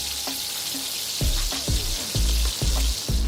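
Bread stuffed with salted egg filling hisses loudly while frying in hot oil, a dense steady sizzle broken by several sharp thumps and clatters, likely from a utensil striking the pan, with no voices.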